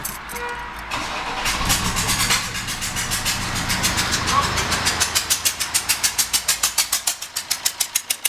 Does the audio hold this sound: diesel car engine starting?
yes